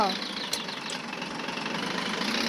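An RV engine in the Roblox video game, a steady mid-pitched droning hum as the vehicle shifts gears, with a short metallic tick early on and a voice talking over it.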